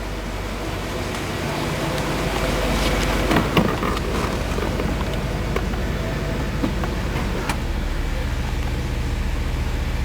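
A 1977 Mercedes 450 SLC with an idle problem sits idling in drive at low revs, a steady low engine rumble with a brief rise in the middle and a few faint knocks.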